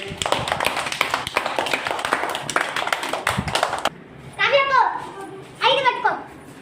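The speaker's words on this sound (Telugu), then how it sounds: "వెరీ గుడ్ క్లాస్ కొట్టండి" A first-grade classroom of children claps together in a burst of quick, rhythmic applause, followed by a teacher's voice speaking over the quieter room.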